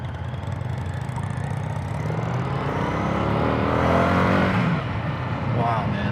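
Indian FTR1200 R Carbon motorcycle accelerating hard, its engine note climbing steadily and loud up close, with rising harmonics and continuous wind and road roar throughout.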